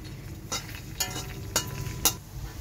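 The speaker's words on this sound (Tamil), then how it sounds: "எல்லாம் பூண்டையும் ஆட் பண்ணிக்கோங்க" Chopped garlic hitting hot oil in a pan for arrabiata pasta, with a steady close sizzle broken by four sharp bursts about half a second apart as pieces go in or are stirred.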